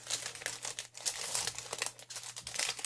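Ribbon packaging crinkled and handled while being opened, a steady run of close crackling and rustling with small tearing bursts throughout, no voices.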